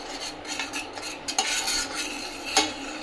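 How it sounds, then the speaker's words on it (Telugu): A spoon stirring ground cocoa powder into milk in a pot, with repeated close scraping and clinking of metal against the vessel, uneven in rhythm with a sharper clank near the end. "మిక్సీ పట్టుకున్న కోకో పౌడర్ని మిక్స్ చేస్తూ వేసుకోవాలి"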